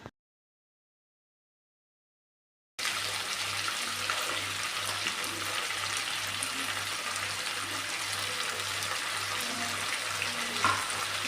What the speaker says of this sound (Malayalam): ഇനി ഇതിലേക്ക് തക്കാളി, നമ്മുടെ കോളിഫ്ലവർ എല്ലാം ഇട്ട് കൊടുത്ത് നല്ലോണം വഴറ്റിയെടുക്കാം.